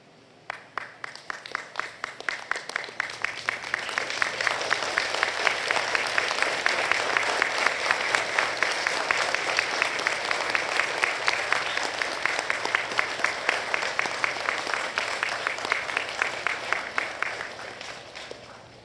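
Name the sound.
graduates applauding their loved ones at convocation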